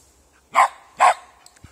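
Shetland sheepdogs bark twice, sharp and fairly close, with a short pause between barks and a quiet background.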